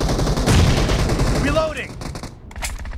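Rapid bursts of automatic gunfire rattle loudly and close from the Battlegrounds Mobile India mobile shooter, followed by a few short whistling in-game effects and scattered shots.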